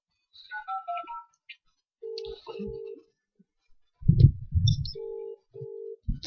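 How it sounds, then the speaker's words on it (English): A telephone rings on a radio show while waiting for a caller to answer, with short electronic ring tones repeating in bursts and some low rumbling handling noise between them. "Pick up the phone, Alistair."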